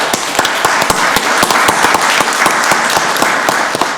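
An audience at a county board of commissioners meeting claps loudly and steadily, with many sharp individual claps standing out over the dense applause throughout.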